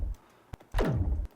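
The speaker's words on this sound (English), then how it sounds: "this is just an impact sound effect from the Quantum pack from Ocular Sounds" A designed impact effect from the Ocular Sounds Quantum pack: a faint tick, then a sharp bright hit that sweeps quickly down into a low bass boom lasting about half a second, alone with no talking.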